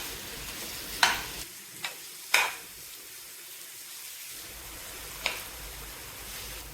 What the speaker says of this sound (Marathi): आपले कांदे हे बऱ्याच प्रमाणात सॉफ्ट असे झालेले आहेत. तर आपण याला एकदा छान प्रकारे मिक्स करून घेऊया.